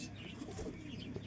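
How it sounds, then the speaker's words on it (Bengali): Pigeons cooing softly on a rooftop as they are let out one by one, low murmuring coos with light rustle over a steady outdoor background. "একে একে সব ছাড়ছে মামা পায়রা"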